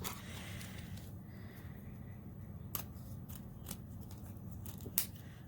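Scissors cutting ribbon into strips, a few sharp, quiet snips spaced apart over a soft, steady background hiss.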